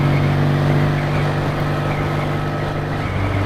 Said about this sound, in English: So I put these pea shooters on, and that covers up all that droning noise from the airbox.